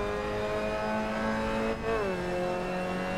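A Mazda MX-5 Cup race car engine in a sim racing game holds a steady high drone, then drops in pitch as it downshifts, a continuous close engine tone with no talk.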